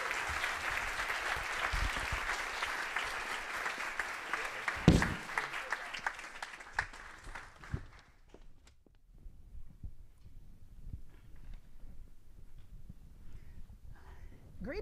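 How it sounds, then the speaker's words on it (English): Audience applause welcoming the evening's guests at a Harvard forum on global democracy, a dense steady clapping that swells, peaks around five seconds, then thins out and fades to scattered claps and quiet room noise. "please join me in a round of applause welcoming this evening's guests."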